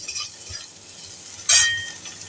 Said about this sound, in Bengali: তাতে পেঁয়াজগুলো খুব তাড়াতাড়ি আমাদের ভাজা হয়ে যাবে আর নরমও হয়ে যাবে